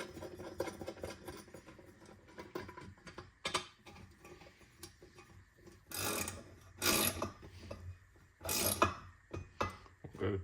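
A ratchet with a 13mm socket snugging down the bolts of a Grizzly 8-inch benchtop drill press, rapid clicking bursts in several close, loud runs separated by short pauses.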